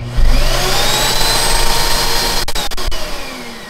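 Miele C2 vacuum cleaner switched on for an on/off test after a suction repair, a loud steady motor whine that cuts out abruptly near the end with a few clicks.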